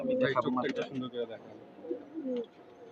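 Pigeons kept in a fancier's collection coo close by in soft, throaty runs, busier at first and then thinning to a few quieter coos.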